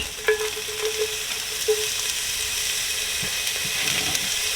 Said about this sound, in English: add a little more oil, and I'm just gonna sear off these ramps real quick